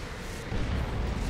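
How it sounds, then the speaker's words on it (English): Manticore artillery strike in the Dawn of War 2: Retribution strategy game, landing as a low rumbling boom that swells halfway through and holds as a dense, heavy roar. "Manticore strike on the VP just to keep things off of it."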